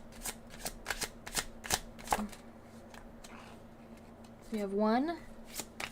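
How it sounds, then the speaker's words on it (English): A tarot deck is shuffled close up in quick papery riffles and taps, with a brief spoken phrase partway through and a rising whine-like tone near the end. "I'm going to start shuffling"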